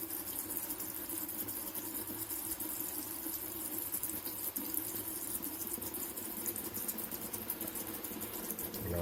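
Water running steadily from a tap fed by a small instant water heater, a constant faint hiss and splash into a sink, continuous and fairly quiet, no voices.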